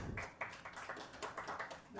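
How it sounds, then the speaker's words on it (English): Audience applause in a conference hall at an official ceremony in New Delhi, scattered hand claps and taps heard faintly and somewhat distant over a couple of seconds. "Can we have a big round of applause?"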